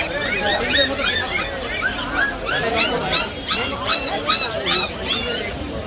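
Dogs, huskies among them, yipping and whining in quick repeated bursts at a crowded animal and bird market, with a babble of people in the background.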